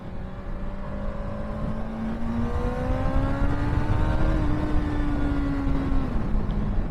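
Kawasaki Z1000 motorcycle rolling on the throttle from about 35 mph in third gear, its engine note climbing steadily in pitch, loud and close over constant wind rush, with no talk.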